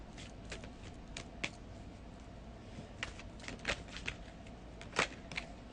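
Tarot cards get shuffled by hand in soft, irregular flicks and riffles, with a few sharper snaps standing out over a quiet room background, close and fairly faint.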